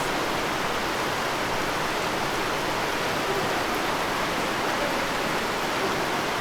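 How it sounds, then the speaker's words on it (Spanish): Heavy rain pours down in a steady, dense hiss with no break, a loud, close downpour with no other sounds. "Si es que está lloviendo mucho. Para los que nos van a ver desde casa, se vino un aguaceroso."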